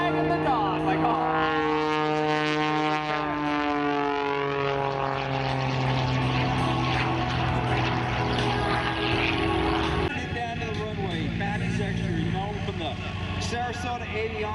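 A Patty Wagstaff Extra 300S aerobatic propeller plane at the Sun N Fun airshow drones loudly, its engine pitch sliding down as it rolls along the runway, with an announcer talking over it.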